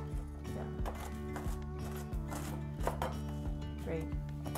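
Celery being chopped on a cutting board for Thanksgiving stuffing, a steady run of knife chops near the microphone with background kitchen sounds and no talk.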